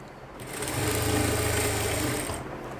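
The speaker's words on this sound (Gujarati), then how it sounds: "આપણી ચણિયાની ધાર ઉપર એક સિલાઈ મારી દેશું" A sewing machine runs a steady stitching burst along the edge of a petticoat, a close, even mechanical whir that rises, holds for about a second and a half, then slows off.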